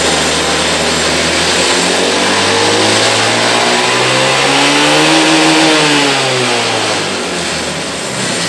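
A 2014 Honda PCX 150 scooter engine revs up loud and close, its drone climbing in pitch and then easing back down over several seconds, with no voices.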